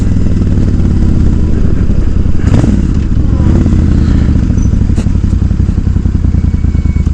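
A Suzuki Boulevard S83 1400cc cruiser motorcycle being ridden, its engine droning steadily and loud throughout, with a brief swell of revving and some clatter midway.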